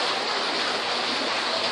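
Steady rain pours outdoors during an open-air Sunday worship sermon, a dense even hiss of falling water, close and continuous with no voices.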